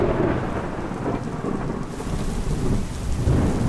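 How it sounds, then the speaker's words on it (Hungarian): Heavy thunderstorm breaking over a tented camp, a sudden downpour: loud, dense rain roars steadily while thunder rumbles underneath throughout, with no voices. "A kemény munka végére a vihar is megérkezett, leszakadt az ég, nem is kicsit."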